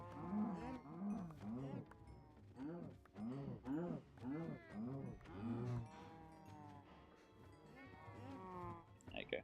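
Cows in the video game Minecraft moo repeatedly, a string of rising-and-falling bovine calls overlapping in a steady rhythm, fairly close and clear, with game ambience and no talking.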